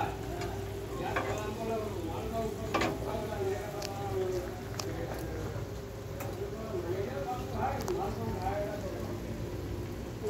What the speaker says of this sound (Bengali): সর্ষের তেল দিয়ে তাতে তোমার কালো জিরে ফোড়ন দিলাম